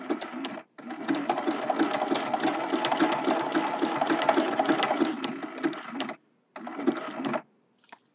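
A sewing machine stitches fabric around the spout of a watering can mug rug in rapid, continuous bursts, stopping briefly twice and then starting again, close and steady with no talk over it.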